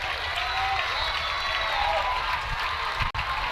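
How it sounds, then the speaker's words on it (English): A baseball crowd at a high school semifinal game between the Dripping Springs Tigers and CC Veteran's cheers and applauds in a steady, broad roar, with a commentator's voice faintly mixed in. "Crowd is getting hyped."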